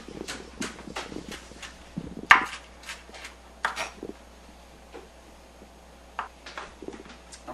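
A knife chops repeatedly on a cutting board while a flounder is cleaned and prepared for stuffing, giving sharp, irregular close knocks with short pauses between cuts.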